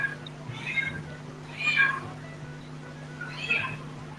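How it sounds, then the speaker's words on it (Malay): A cat meows three times, each call drawn out and moderately close, over a steady low hum with quiet talk in the background. "Bunyi kucing."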